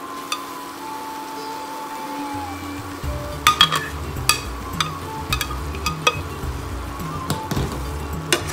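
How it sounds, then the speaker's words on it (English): A mixture of cashews, watermelon and poppy seeds, yogurt and fresh cream goes into a hot frying pan for chicken dabba gosht, a soft sizzle followed by repeated spoon clinks and scraping against the pan. "Now we will add this mixture of cashews and watermelon seeds and poppy seeds and yogurt, fresh cream."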